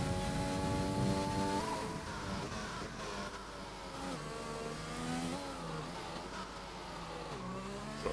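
A race car engine in a sim racing game pulls hard out of a corner, its revs climbing and shifting in a loud, continuous drone that fills the whole stretch without any talk.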